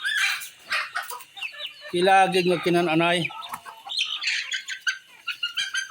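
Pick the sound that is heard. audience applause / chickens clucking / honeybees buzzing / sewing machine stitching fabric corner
chickens clucking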